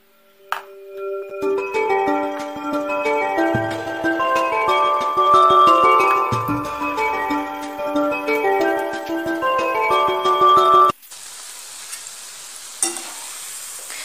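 Onion bhaji batter balls fry in hot oil on a lowered flame, a soft sizzle hidden under a melodic tune for most of the time, then a steady broadband hiss of bubbling oil heard on its own.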